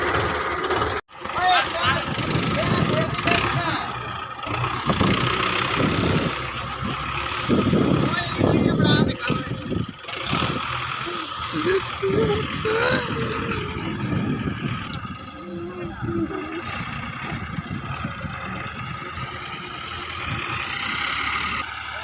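Tractor pulling a loaded 16-foot trolley, its engine rumbling continuously and fairly loud with fluctuating revs, heard up close under people talking.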